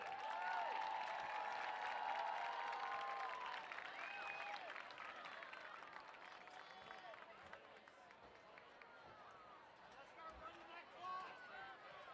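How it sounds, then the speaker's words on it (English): Applause and cheering at a high school football game honour the Fayetteville band members, a broad crowd clapping that starts strong and thins out over several seconds, with chatter and a few whoops beneath. "Let's hear another round of applause for our Fayetteville band members."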